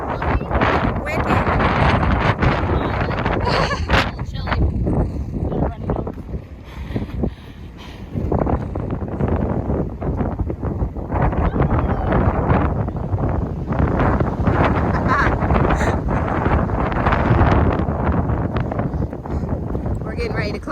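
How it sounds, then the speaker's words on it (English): Strong wind on a mountain top in the Roan Highlands buffets the microphone in a constant roar of rumbling gusts, with a voice speaking briefly over it. "Windy up here."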